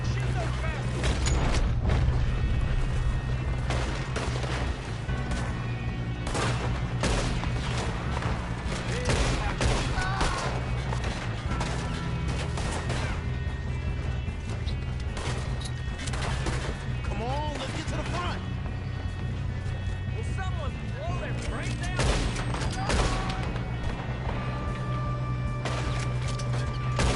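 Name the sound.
gunfire in a shootout in the video game Red Dead Redemption 2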